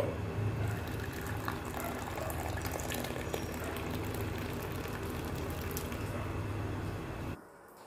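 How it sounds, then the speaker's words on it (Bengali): Warmed saffron milk poured into a tea cup, a steady continuous liquid stream with a low hum underneath, lasting several seconds before stopping abruptly near the end. "আবার এখন ঢেলে দিব কাপে"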